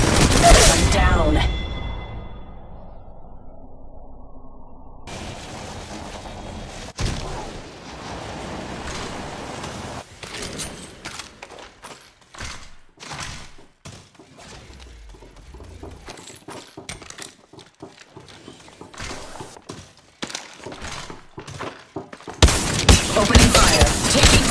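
Weapons fire in the mobile shooter game Apex Legends Mobile, with energy-ammo guns. Rapid bursts and single shots crackle through the latter half, loud and close, between quieter stretches of game ambience.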